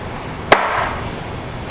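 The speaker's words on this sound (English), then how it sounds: "We'll just trim off the edges. We don't want the little rind part." A knife trims the rind off a block of cotija cheese on a cutting board, making one sharp close chop followed by a brief scrape. A faint second tap comes near the end, over a quiet kitchen background.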